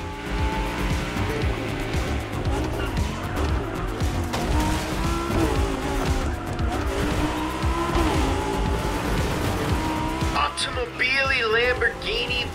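Race cars in The Crew Motorfest, a Lamborghini against a Ferrari, roar with high-revving engines and tire squeal, loud and continuous with game music and voices layered over the action.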